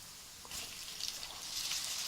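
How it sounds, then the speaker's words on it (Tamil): Onions sautéing in oil with salt for kothu parotta give a faint, steady sizzle that swells slightly, with no talking over it. "வெங்காயம் வதங்குறதுக்கு கொஞ்சோண்டு உப்பு போட்டு நல்லா வதக்குங்க."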